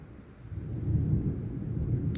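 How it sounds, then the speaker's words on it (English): Thunder rumbles low and steady during a pouring rainstorm, a muffled, rolling swell that rises and holds for about two seconds with no voices. "You guys hear the thunder?"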